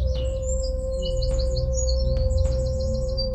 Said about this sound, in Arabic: طيور النمنمة أو التروغلوديت مينيون